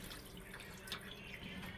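Cold tap water runs and drips onto boiled chicken breast in a kitchen sink, a soft, steady trickle with light splashing throughout, fairly quiet and without talk.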